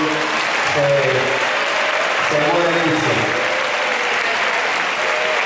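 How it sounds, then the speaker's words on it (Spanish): Hall of people clapping loudly and continuously at a local sports league trophy presentation led by the mayor, with a voice talking over the dense applause throughout. "darles un fuerte aplauso,"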